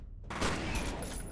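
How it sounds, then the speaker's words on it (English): A shotgun blast in slow motion from a video game, heard as a loud, smeared, drawn-out boom that fills the whole moment, with no talk over it. "we're gonna try that slow-mo shotgun"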